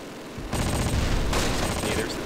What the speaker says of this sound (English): still a tremendous amount of artillery fire from the enemy